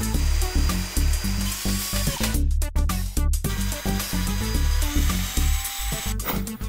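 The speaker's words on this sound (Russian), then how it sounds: "Сейчас отмечу место сверления крестиком. Сверлить буду тут." An electric drill bores holes in a small handmade statue, whining in short bursts that start and stop repeatedly, close and alone with no talking.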